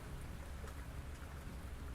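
Rain falls steadily in a soft, dense patter with a low rumbling undertone, faint and continuous with no voices.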